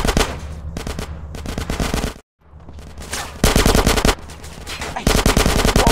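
Loud, sustained automatic gunfire in the video game GTA San Andreas, long rapid bursts of shots broken by one brief silent gap.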